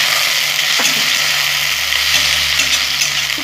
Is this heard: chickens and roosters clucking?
no